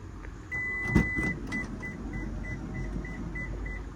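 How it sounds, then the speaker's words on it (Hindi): The power sliding door of a Suzuki Spacia Custom Hybrid runs with a motor hum under a series of evenly spaced chime beeps that repeat steadily at close range, with a brief thump near the start. "पावर स्लाइड डोर है।"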